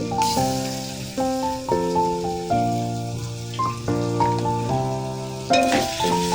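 Onion paste frying and being stirred in a home kitchen pan, with a soft steady sizzle and scraping under louder background piano-like music.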